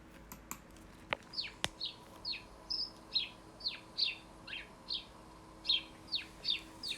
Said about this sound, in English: This is the sound of the house sparrow.